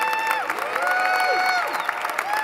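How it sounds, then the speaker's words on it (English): Banquet-hall audience at a national dinner clapping and cheering for Team NGLCC, a sustained close wash of applause topped with whoops and raised voices. "give Team NGLCC another round of applause"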